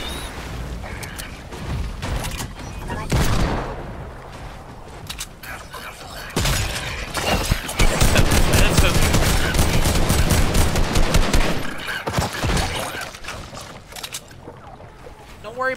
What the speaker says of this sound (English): I'm gonna shoot these people